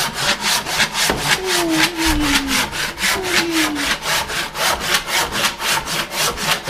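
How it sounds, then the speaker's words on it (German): Wood is cut with a hand saw in steady back-and-forth strokes, loud and close with a regular rhythm of about two strokes per second, and a faint squeak between some strokes. "ob das Holz in richtig gleichmäßiger Geschwindigkeit geschnitten wurde oder nicht"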